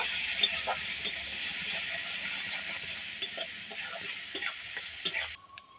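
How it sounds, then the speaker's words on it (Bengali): Cumin, turmeric and chili powder fry in a pan, giving a steady close sizzle broken by light taps and scrapes of stirring, before the sizzle cuts off abruptly near the end. "জিরের গুঁড়ে হলুদ লঙ্কার গুঁড়ো একটু নাড়াখাড়া দিয়ে নেব"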